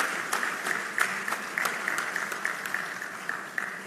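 Audience applause at a retail congress, a moderate, steady patter of many hands with a few sharper claps standing out, continuing evenly throughout without speech.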